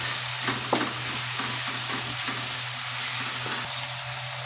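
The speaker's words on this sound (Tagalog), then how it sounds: "pag mainit na, ilagay ng ating chicken. Haluin ng haluin" Chicken pieces frying in a hot pan, a steady dense sizzle with faint scraping as they are stirred over and over, heard up close with a constant low hum beneath.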